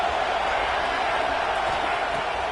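Steady, distant roar of a stadium crowd in an American football video game, a constant wash of noise with no distinct cheers or claps.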